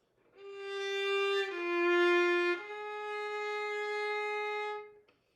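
A violin plays three sustained bowed notes in a short phrase, clear and close, alone with no talking.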